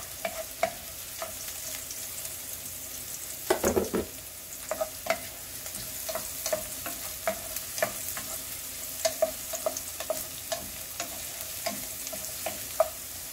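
Garlic sautés in a pan for ampalaya with ground beef, giving a soft, steady sizzle punctuated by regular clacks and scrapes of a spatula stirring, with one busier burst of stirring partway through.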